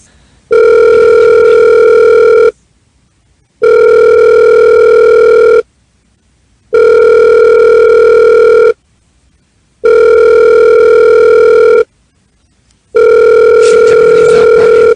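A telephone call rings out on the line with five long, loud, evenly spaced ring tones separated by silent gaps, heard close and clear on its own.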